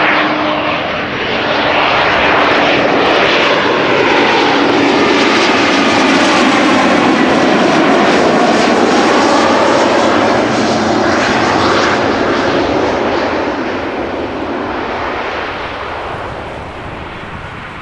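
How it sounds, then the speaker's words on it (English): An Embraer airliner, eight years old, arrives from Nice onto Schiphol's Kaagbaan runway, its loud engine roar swelling close overhead and then slowly easing away, with no talk. "This airplane is 8 years old and had its first flight in November 2015."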